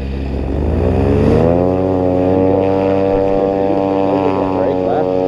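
A paramotor air trike's engine and propeller, loud and close, drone steadily and then climb sharply to a higher, buzzing full-power roar that holds for the rest of the moment, with voices occasionally calling out over it.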